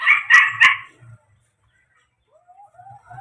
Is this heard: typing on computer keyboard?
no